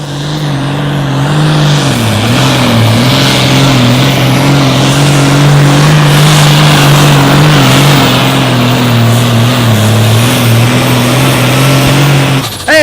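Pulling tractor at an outlaw tractor pull in Madison, South Dakota, its engine roaring loud and close at sustained high revs with some wavering pitch before cutting off abruptly at the end.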